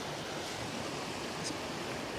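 A mountain waterfall roars just below the listener, a dense, constant wash of falling water that fills the space without a break.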